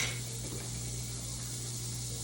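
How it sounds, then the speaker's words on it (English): Chopped onions browning in an iron skillet, giving a steady, soft sizzle with a low hum underneath, continuous and close, with no talking. "I'm going to brown them in this iron skillet here"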